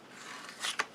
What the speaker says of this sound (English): So I'm going to snip up the center, snip from the corner to the centers